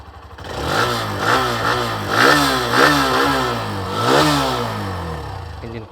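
A Hero Xtreme 125R motorcycle engine starts and revs loudly up close, several rising and falling throttle blips over a rough idle, with no voices.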